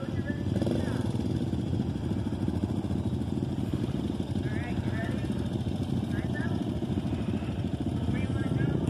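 A Suzuki DRZ400 street-legal dual-sport motorcycle is ridden on muddy dirt, giving a steady, moderately distant engine drone with a few small throttle rises. There is some faint background noise and no clear talk.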